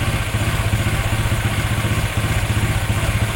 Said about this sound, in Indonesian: sudah bisa teman-teman dengar suara timing kudanya udah keluar